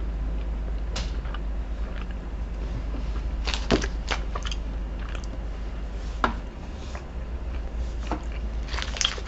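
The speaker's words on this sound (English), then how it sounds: "Let's have a bite." Bites into a Cinnamon Bun Snickers bar produce soft, scattered crunches and sticky squishes up close, quiet clicks over a low steady hum with no talking.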